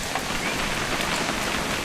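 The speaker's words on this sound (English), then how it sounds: "It's gonna rain the whole weekend," Steady rain pours down in the video game What Remains of Edith Finch, a loud, dense hiss of drops across the whole clip with no talking.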